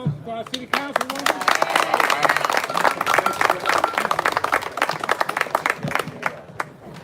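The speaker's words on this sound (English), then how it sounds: "one more round of applause for our city councilwoman" Outdoor crowd at a Black Panther Party anniversary celebration in an Oakland park clapping for a city councilwoman, uneven bursts of hand claps mixed with cheers and talking voices close by.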